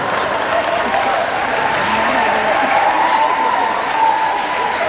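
An audience at a fan convention claps steadily and loudly throughout, a dense continuous wash of applause with some crowd murmur.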